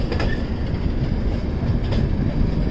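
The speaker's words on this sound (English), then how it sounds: "It's a diesel engine." Steady low rumble of a passing train pulled by a 4,000-horsepower diesel locomotive, heavy diesel drone with continuous rolling noise and faint wheel clatter, close by.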